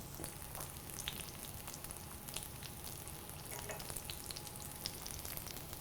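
Turkey schnitzel fries in a hot pan with a steady, close sizzle and crackle, small pops scattered throughout, and no voices.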